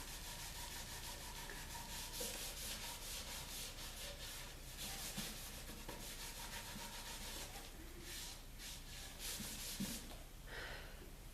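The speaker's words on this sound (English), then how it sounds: "the sanding kind of takes some of the extra little bits off that didn't come off" Steady hand sanding of painted wood, a continuous rhythmic scratchy rubbing that carries on throughout at close range, with no talking.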